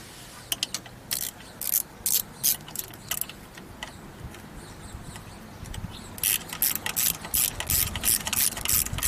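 A hand wrench ratchets in quick bursts of clicks while nuts are snugged down on the carburetor of a 1977 Sea Ray SRV220 boat, the clicking close and fairly quiet with short pauses between runs.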